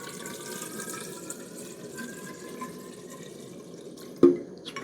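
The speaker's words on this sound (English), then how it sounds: "get some water in this Ghillie Kettle ready for a coffee" Water trickles steadily into a Ghillie Kettle outdoors at a bothy in the Peak District, a faint continuous pouring ending in a sharp clunk near the close.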